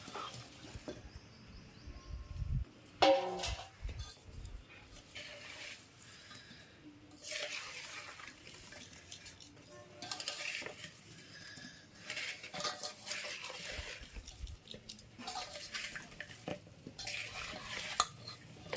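Soft, intermittent stirring of fried amla (Indian gooseberries) into chutney in a bowl, with spoon scrapes and clinks coming in short bursts separated by quiet gaps.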